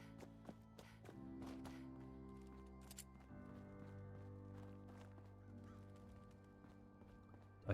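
Birds honk like geese in the Fallout 4 video game, a faint series of repeated nasal calls over a low, steady background hum.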